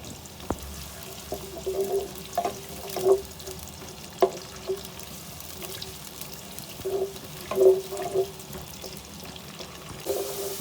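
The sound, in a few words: onions frying in hot oil in a pan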